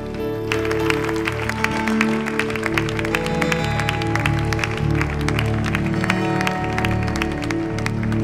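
A church congregation applauds to acclaim the Lord, with a dense, sustained stretch of clapping over a steady sustained tone, and the many hands forming a continuous patter at an even level.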